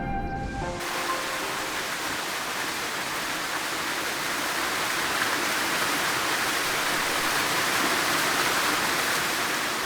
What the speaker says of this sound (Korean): 천 개의 기암 사이로 흐르는 숱한 물줄기들이 구르고 뛰면서 세상의 낮은 곳으로 향합니다.